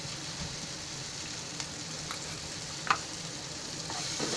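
Potato bhaji with its masala frying and being stirred in a pan gives a soft, steady sizzle with a few light scrapes and clinks, heard close and alone.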